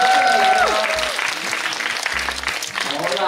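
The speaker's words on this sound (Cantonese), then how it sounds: "俾掌聲熱吧！" A crowd at a Hong Kong film premiere claps warmly in continuous, loud applause, with a host's voice speaking over it at the start and briefly midway.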